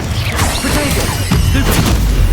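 The Incendio fire spell cast in Hogwarts Legacy: a loud, dense whooshing burst of flame with swirling magical sweeps and crackling impacts, continuous for a couple of seconds.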